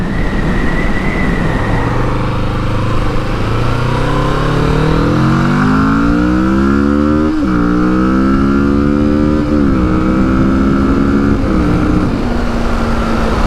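Kawasaki Vulcan S cruiser motorcycle riding through turns, a loud continuous engine drone that rises and falls in pitch with throttle and gear changes, heavy wind rush throughout, no speech.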